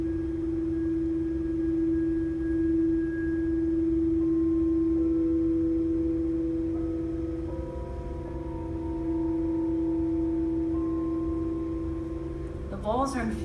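A sustained singing bowl tone hums steadily with faint overtones, ending with a brief bright shimmer of struck metal.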